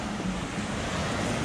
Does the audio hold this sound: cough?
no